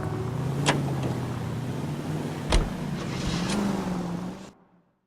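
Car driving in the video game L.A. Noire, a steady engine drone with a couple of sharp clunks and a rising engine note before cutting to silence near the end.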